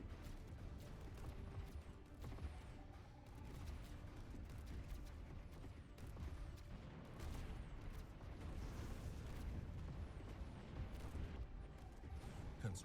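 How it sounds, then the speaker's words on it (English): A Stellaris space fleet battle rumbles with corvettes firing torpedoes and plasma cannons, a dense, low, continuous barrage of muffled booms and sharp zaps at a faint level. "All the Corvettes just in there, dancing, firing all their torpedoes and plasma cannons."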